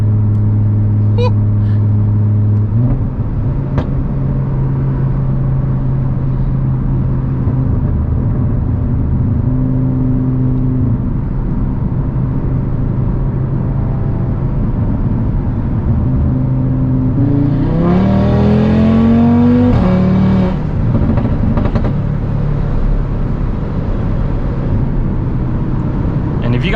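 An Audi RS3 engine hums at a steady idle, then revs hard and accelerates from inside the car, its pitch climbing and dropping as it shifts through gears, with a few faint clicks along the way.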